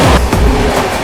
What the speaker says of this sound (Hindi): क्या भाग के आई है भाई अपनी बिहार संपर्क क्रांति सुपर फास्ट एक्सप्रेस।